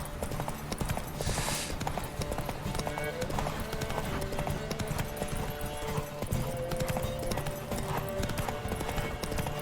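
A horse gallops in a race in The Witcher 3, hooves pounding in a fast continuous rhythm, loud and dense under background music and someone talking.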